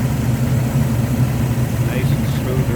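A 1936 Chevrolet Master Deluxe coupe street rod engine idles smoothly and steadily nearby, a low even rumble with someone talking over it.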